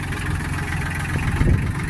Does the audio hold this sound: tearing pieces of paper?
no